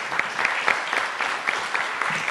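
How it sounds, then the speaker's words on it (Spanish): A seated audience applauds at the opening ceremony of a First World War history colloquium, producing a steady, dense stream of clapping with sharper individual claps, sustained throughout with no voices over it. "Pienso que tenemos que aplaudirlos"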